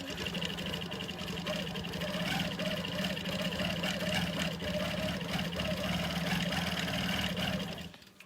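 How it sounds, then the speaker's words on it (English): A Quilt Maker Pro 18 quilting machine motor hums steadily during micro stitching, its speed rising and falling in repeated waves as it runs continuously. "you can hear my machine motor revving up and slowing down"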